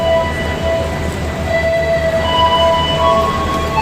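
A steady low rumble of the Taksaka passenger train idling at a station platform nearby, with faint whining tones and background hum, no voices.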